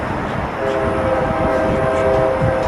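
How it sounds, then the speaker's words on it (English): A train passes outdoors on a windy day, its rumble rising and holding loud and close, with a sustained horn tone sounding through most of the stretch. "Yeah, I'm telling you, that damn train."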